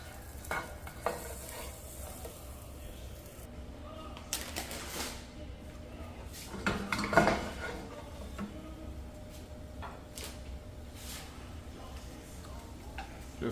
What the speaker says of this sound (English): Just cook down my garlic.